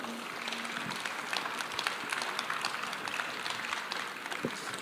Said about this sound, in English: give a big round of applause to Peter, Hart, Yoav, and Bartek.